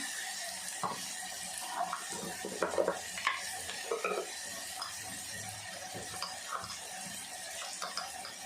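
Ginger and garlic being stirred and sautéed in a pan, with a low continuous sizzle and scattered light scraping and spatula knocks, fairly faint and steady.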